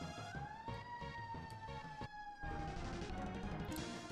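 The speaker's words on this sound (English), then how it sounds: "I'm not sure if you guys hear the ambulance outside." An ambulance siren wails outside as it drives by, its rising and falling tone fairly faint behind layered video game music.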